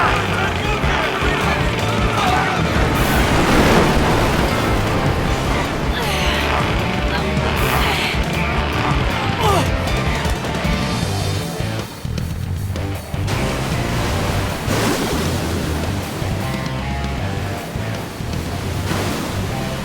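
Animated waterspout and stormy sea: roaring surf, crashing waves and heavy thuds form a loud, unbroken wall of noise while characters shout over it.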